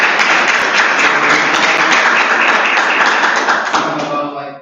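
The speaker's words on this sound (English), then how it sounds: "A round of applause again." Loud, steady applause from an audience after a scientific talk on ice masses, sustained clapping close to the microphone that fades at the very end.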